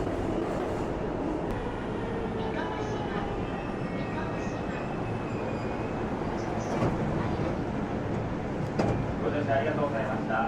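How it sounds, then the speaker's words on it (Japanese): A Tokyo commuter train stopping at Nippori, Ueno, Tokyo, Shinbashi and Shinagawa hums along with a steady, even rumble of wheels and car noise, heard from inside, with an announcement voice faintly over it. "この列車は日暮里、上野、東京、新橋、品川の順に停車します。"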